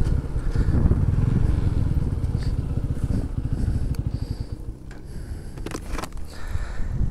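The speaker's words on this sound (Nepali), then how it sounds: "अब हामी यही डाँडामा बाइक राख्छौँ" A motorcycle engine runs close by on a hilltop ridge as the bike is parked, a loud, steady throbbing rumble that eases slightly toward the end, with faint clatter around it.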